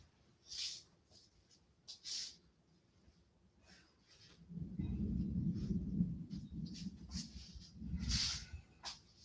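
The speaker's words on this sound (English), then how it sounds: "it's still thundering out." Thunder rumbling outside, a low rolling boom that swells midway and lingers for several seconds, distant and muffled, with a few brief sharper sounds nearby.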